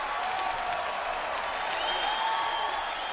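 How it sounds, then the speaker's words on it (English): A sold-out crowd at the Mandalay Bay Event Center cheers and applauds during a UFC 47 fight, a dense steady roar of clapping and voices heard from within the arena. "And the crowd reacts as they are back on their feet."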